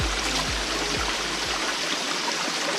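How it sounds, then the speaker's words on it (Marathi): The Vajrai waterfall on the Kaas plateau gives off a steady, even roar of rushing water, with a few low bumps of handling noise in the first second and a half. "त्या धबधब्याचा आवाज येतोय"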